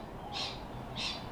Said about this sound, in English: stupid fucking birds